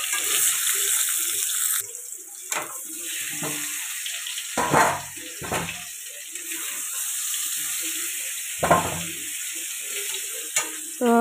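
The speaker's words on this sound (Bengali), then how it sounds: "এমনি এমনি কড়াইতে আমি তেল দিয়ে ভেজে নেব" Potatoes frying in oil in a kadai, a steady sizzle running throughout with intermittent scraping and stirring clatters from a spatula against the pan.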